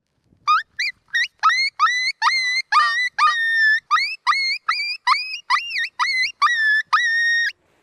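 A hand-blown coyote distress call, used for hunting coyotes in Canada, gives about sixteen loud, close, wavering whistle-like cries in rapid succession with short gaps between them.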